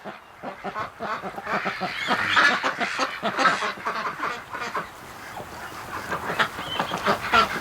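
Muscovy drake and Rouen duck in a barn, a dense run of rapid quacks and honking calls, continuous and fairly close with overlapping voices and no talk.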